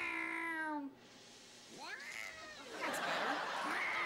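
A cat meows in short, rising and falling calls, first a long wavering one and then a couple more after a brief pause, close and fairly clear over a quiet room background.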